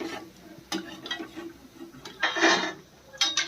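Crispy, golden-brown fried kothimbir vadi, coriander gram-flour fritters, lifted onto a plate with a few sharp, close clinks and light scraping taps against the dish.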